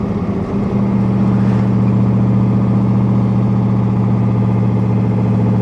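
Big block 1966 Corvette Stingray engine, loud and close, holding a steady rumbling drone with a brief shift in tone near the start as it downshifts, no voices over it.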